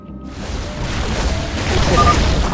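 In the StarCraft 2 game, Nidus worm spawning points are destroyed with a heavy rumbling boom that swells and rolls on, loud and sustained, layered with game effects.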